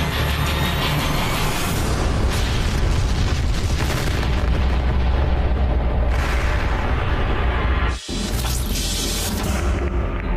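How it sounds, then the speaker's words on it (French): A rocket launch ends in an explosion from an antimatter propulsion failure, a dense, loud, continuous roaring blast that surges and fades in waves, broken by a brief cut near the end before the rumble resumes. "une terrible explosion s'est produite"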